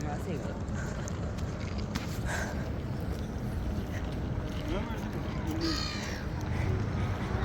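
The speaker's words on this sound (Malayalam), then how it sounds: "ഈ കിളി അലയ്ക്കുന്ന കേട്ടോ ഞാൻ പേടിയാവും" Birds call noisily at a rainy railway station, with crow-like caws and chirps over a dense wash of ambient noise, while a person talks nearby.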